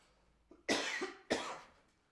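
Two sharp coughs in quick succession, preceded by a small throat sound, fairly quiet and isolated.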